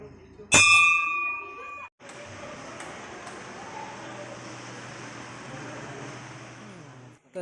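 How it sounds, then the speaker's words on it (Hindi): A single loud metallic bell strike rings out and decays over a second or so, followed by a steady rumble of traffic or engine noise. "घंटी बजाना"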